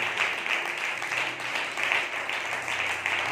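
A church congregation claps at a Sunday service, a sustained, even patter of many hands filling the room without any speech.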